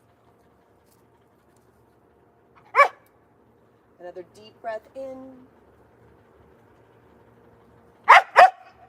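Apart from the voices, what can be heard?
dogs barking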